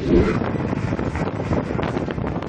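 Strong seaside wind roars steadily across the microphone, a continuous broadband rush with gusty buffeting and no voices.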